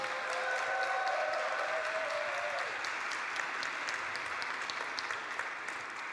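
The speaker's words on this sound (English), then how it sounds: "so this applause is much appreciated" An audience at a European universities alliances forum in Wrocław applauds, a dense, sustained clapping from a large hall crowd that stays steady throughout, with a faint tonal ring early on and no speech over it.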